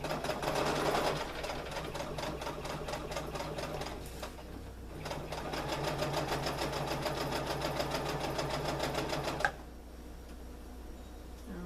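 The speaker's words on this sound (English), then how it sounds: "Started, and I'm going to back stitch so that it's secured." Sewing machine back stitching a fabric trick or treat bag, a steady close mechanical needle rattle that pauses briefly near four seconds, resumes, then stops with a click near nine and a half seconds.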